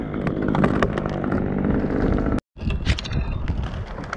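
A Husqvarna T540XP chainsaw runs at a steady buzzing drone outdoors during tree climbing and rigging work, cutting out abruptly for a split second before resuming, close and loud with wind noise.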